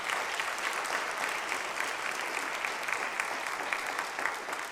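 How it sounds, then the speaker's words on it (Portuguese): A church congregation applauding steadily during an evening service, dense clapping at an even level throughout with no voices standing out. "Será que você pode aplaudir o nome de Jesus nessa noite?"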